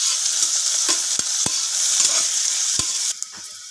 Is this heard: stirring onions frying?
yes